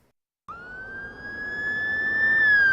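A police-style emergency vehicle siren starts abruptly after a moment of silence and holds a loud, steady wailing tone that slowly swells in volume, heard close and alone.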